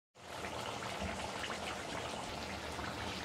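Dahi pasinde masala roasting in a pan until its water cooks off, giving a steady, continuous sizzle and bubbling hiss that runs loud and close throughout with no pauses.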